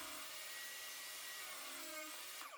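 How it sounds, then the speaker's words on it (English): A table saw rips a scrap piece of oak, producing a steady, fairly quiet whining drone with a constant pitch throughout and no talking. "setting the table saw to about an inch or so, and ripping it down"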